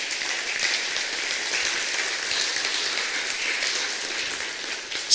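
A church congregation applauds during a worship celebration, a broad, even wash of many hands clapping that holds steady for several seconds before a brief louder burst at the very end.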